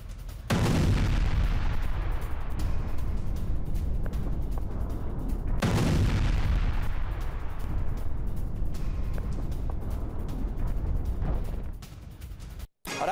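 A drone strike on a building in Kharkiv sets off two heavy, booming blasts several seconds apart, each a loud sudden burst that rolls out into a long rumbling decay.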